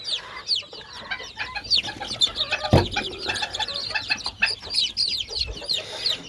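Chicks and chickens cluck and cheep near at hand in a busy, overlapping chorus, with high peeps running all the way through and one sharp thump partway along.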